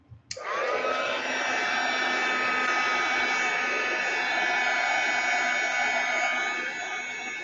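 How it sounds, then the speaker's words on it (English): A hair dryer switches on abruptly and runs loudly and steadily, a close, continuous whooshing blow with a high whine, alone without talk. "here comes the dryer, people."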